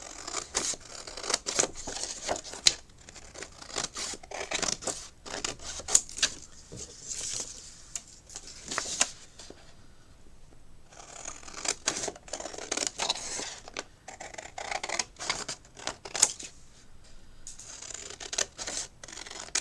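Scissors cut down the side of a gel-plate print on paper, giving a series of quiet, close snips and rustles in irregular bursts with short pauses between them.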